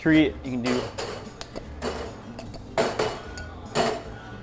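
Metal cocktail tins clank and clatter repeatedly in quick rhythm, close up, with a person talking throughout.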